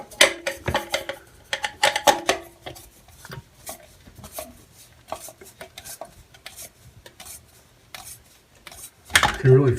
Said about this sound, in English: I can kind of hear the porcelain hitting now